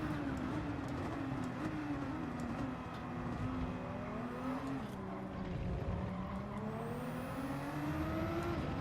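Race cars in the Gran Turismo 7 video game roar steadily with rising and falling engine pitch as they accelerate and shift, a continuous loud drone with no talk.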